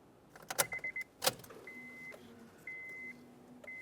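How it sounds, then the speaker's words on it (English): A power window motor in a 2006-2011 Honda Civic door drives the regulator upward, a faint whirring hum preceded by a couple of sharp clicks and short electronic beeps, heard close up with no talking. "Now we can put the key in the on position and we'll power the window regulator up."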